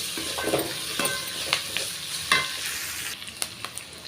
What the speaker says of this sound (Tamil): உப்பு சேர்த்துட்டு நல்லா வதக்கி விட்டுக்கலாம்